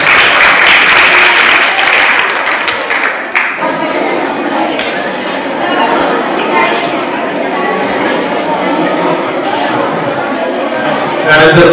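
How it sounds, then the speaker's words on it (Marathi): Students clapping at a school prize-distribution event at a high school, steady loud applause from a crowd that carries on for about ten seconds, with a voice audible at the start. "टाळ्या वाजवा विद्यार्थ्यांनो।"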